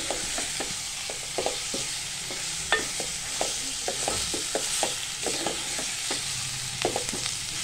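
Green masala being sautéed with onions in a pan for chicken keema, with a steady background sizzle and repeated scraping stirs of a spatula at an uneven rhythm, close and fairly quiet.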